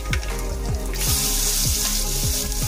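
Onion drops into hot oil already holding mustard seeds, cumin and curry leaves, setting off a loud, steady sizzle that swells into bright frying hiss, with repeated low thumps running beneath it.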